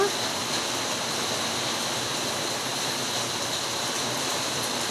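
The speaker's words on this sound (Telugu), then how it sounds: "దానిపైనుంచి పడుతున్న వర్షం చూసారు, చినుకులు ఎలా కనబడుతున్నాయి పెద్దగా." Rain falls steadily from the very large leaves of tall shade trees, a dense, even, close hiss of water with no break from start to finish.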